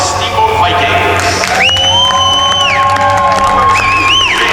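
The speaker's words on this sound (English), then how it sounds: "Congratulations and a round of applause for the Steamboat Vikings." Loud crowd cheering, whoops and applause for the Steamboat Vikings hockey team, gold medalists after a championship game, with sustained shouting voices and high-pitched yells over a dense crowd roar.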